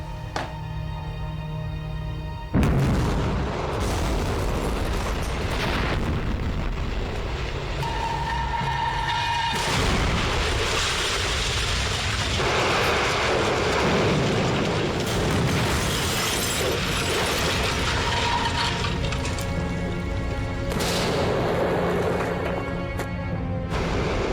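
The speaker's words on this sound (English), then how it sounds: "This bomb blew the top floor off of our building" A wartime bomb blast tears the top floor off a building, a loud, sustained roar with shattering and crumbling debris that fills the whole stretch after a sudden onset, with rumbling bursts layered throughout.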